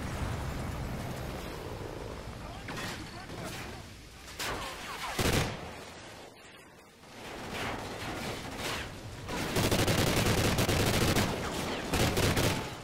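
Sustained automatic gunfire in the Call of Duty Ghosts campaign mission Atlas Falls, loud rapid bursts with a very high rate of fire, broken by a short lull and a booming blast, then a long dense stretch of shooting.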